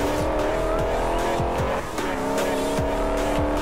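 Dodge Challenger in the racing game Forza Horizon 2, its engine droning steadily and close with rising gear pitches, several short tire squeals cutting in throughout.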